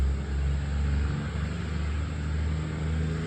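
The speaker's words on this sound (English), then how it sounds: "sorry about the truck noise in the background" Truck noise rumbles in the background: a continuous low engine drone that swells slightly and stays steady throughout, fairly loud, with no speech.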